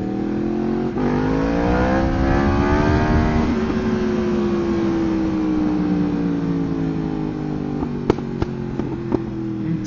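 A Yamaha MT-125 motorcycle overtakes on the road. Its engine note swells loudly and climbs in pitch, then slowly drops away over a steady engine and wind drone, with a few sharp clicks near the end.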